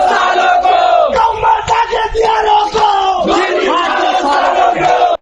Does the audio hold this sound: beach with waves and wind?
no